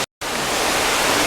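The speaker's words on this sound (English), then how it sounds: "the waterfall is a little noisy for reading" Steady broadband rush of a hotel's indoor waterfall splashing at Embassy Suites Orlando, loud and continuous after a brief silent gap, with no voices.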